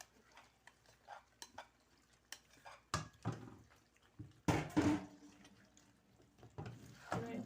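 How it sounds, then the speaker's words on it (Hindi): Turnips are tipped into a pot of chicken masala and stirred, giving soft scraping and clinking of a utensil against the pot with a few sharper knocks, all faint and close with quiet pauses between strokes. "अब मैं इसमें शलजम डालने लगी हूँ।"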